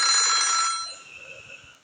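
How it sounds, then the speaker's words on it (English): A telephone rings in the video game Otogirisou, loud and bright for under a second, then fades into faint hum with a small thump at the end. "Then the phone started ringing"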